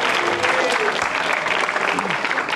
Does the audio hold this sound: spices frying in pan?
no